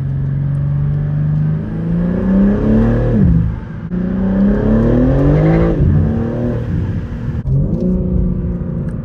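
Stock BMW M2 engine revving hard and accelerating through gears in sport mode, a loud, close roar that climbs in pitch, drops at each shift around three, six and eight seconds, then rises again, with no talking.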